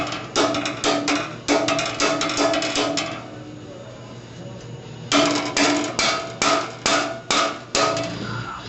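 Hammer blows ring out on a steel rear bumper for a hot rod as it is shaped on an anvil, two bursts of rapid, loud metallic strikes separated by a short pause.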